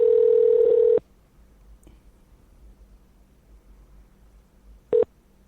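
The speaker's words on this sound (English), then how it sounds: "Any second, you hear it ringing." A telephone rings on an outgoing call: a steady electronic ring tone sounds for about a second, then after a quiet gap of several seconds comes a second short burst, heard alone in a quiet room.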